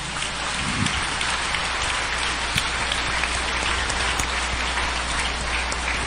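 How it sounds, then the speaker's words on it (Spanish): Congregation applauding Monseñor Herrera at an episcopal ordination ceremony, a loud, dense, continuous roar of clapping that sounds almost like heavy rain, with a low steady hum underneath and no talk. "Un aplauso para Monseñor Herrera."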